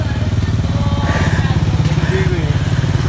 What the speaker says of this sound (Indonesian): Ini ada yang pakai motor nih